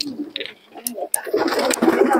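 Pigeons coo at a pigeon sale market in Murshidabad, throaty calls near at hand mixed with brief clatters and a busier rush of noise building in the second half.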